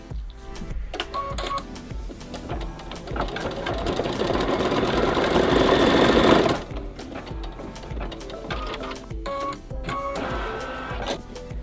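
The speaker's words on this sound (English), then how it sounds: "Let's go ahead and sew stitch sequence 11 to stitch her mouth" Close by, an embroidery machine stitches the mouth on an ice cream appliqué in a rapid, buzzing run that builds and then stops abruptly, followed by quieter mechanical clicks and whirs.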